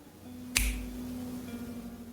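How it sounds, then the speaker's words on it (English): A single crisp finger snap rings out close and clear against a quiet, faintly humming room, then fades into near silence. "And with a snap of your fingers"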